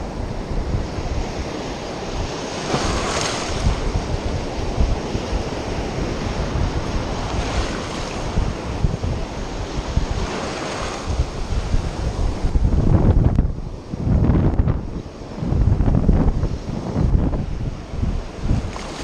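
Strong wind gusts buffet the microphone beside open water during fly casting, with steady surf-like rushing and louder blasts toward the end, and no voices.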